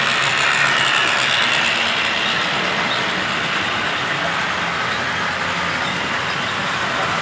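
A model steam locomotive, a classic US steamer running on a layout, gives a steady mechanical rattle with faint clicking as its coasters catch, continuous and fairly close throughout with no talk.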